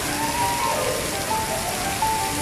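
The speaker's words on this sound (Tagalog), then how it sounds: "Lakas pa ng ulan. Palakas ng palakas ang ulan." Heavy rain pours at the National Stadium in Singapore, a dense, steady hiss of drops drumming on surfaces close by, continuous and loud with no break.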